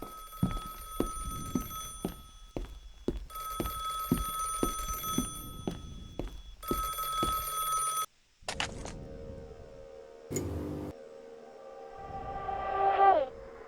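Telephone ringing in the horror game Anaria, repeated bursts of a bright, steady electronic ring in three long spells, followed by a rising synthetic tone and other game sounds.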